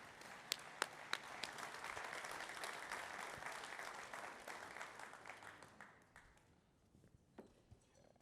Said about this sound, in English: give Curtis a round of applause